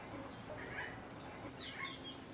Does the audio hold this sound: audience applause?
no